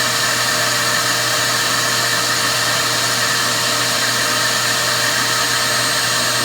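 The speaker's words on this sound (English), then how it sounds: "Leave the wet vac on for a minute to take all the moisture out." A wet vac runs continuously, sucking moisture out of delicate fabric, a loud, steady whooshing motor drone heard alone throughout.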